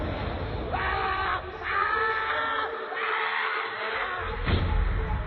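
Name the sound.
loud scream of a man in a horror story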